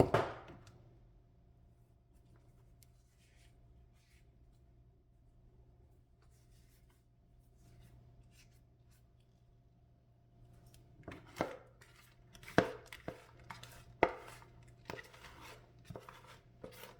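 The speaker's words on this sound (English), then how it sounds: "I'm gonna use the big spoon to pack the fermentation bag." Big spoon packing a fermentation bag for tongba: quiet at first, then a cluster of sharp scraping and tapping strokes near the end, close and fairly faint.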